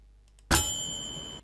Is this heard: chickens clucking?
no